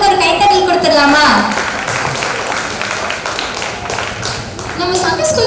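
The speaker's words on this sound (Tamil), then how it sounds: "அவங்களுக்கு ஒரு கைத்தட்டல் கொடுத்துடலாமா?" Applause after a primary girls' dance at a Sunday School Christmas celebration at CSI Christ Church, Kulavanigarpuram, a crowd clapping steadily beneath someone speaking over a loudspeaker.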